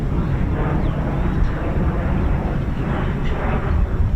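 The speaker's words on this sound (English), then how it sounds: "it's our Embraer Phenom just coming back for another go" An Embraer Phenom business jet passes overhead at an air base, a loud, steady broadband engine roar lasting the whole short span, with the rumble dense in the low end.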